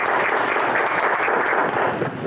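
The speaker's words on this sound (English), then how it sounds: "Raucous cheering." An audience at a school board meeting applauds, a dense, loud and continuous burst of clapping filling the room with no voices over it.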